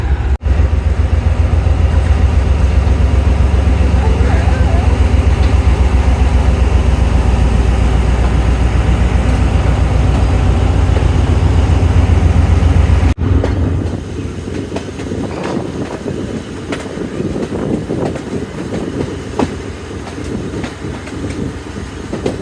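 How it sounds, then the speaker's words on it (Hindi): Karachi Express locomotive picking up speed on the Rohri to Lahore run, a loud continuous rumble with rhythmic wheel clatter that turns rougher and more rattling partway through. No voices. "तो लोकोमोटिव तो काफ़ी फिट है और बहुत जल्दी जो है स्पीड पकड़ रहा है"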